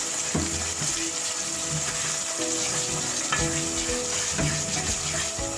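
Nigerian jollof rice base of tomato puree sautéing in a pot, a loud constant sizzle with occasional spoon scrapes and knocks against the pot, close up.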